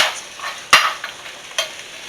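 Pureed canned pumpkin is stirred into a stuffed-shell filling with soft, wet scraping in a bowl. Two sharper utensil knocks stand out, and no one speaks.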